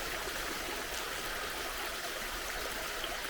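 Yellow Slacks Brook flows down a moorland valley near Glossop at its crossing point, a steady close rushing babble of water with no voices.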